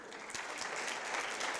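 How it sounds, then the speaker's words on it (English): Audience at a university panel event applauding for a partner and executive director being introduced, a steady dense clapping that holds at even loudness throughout. "You can give her a clap if you want."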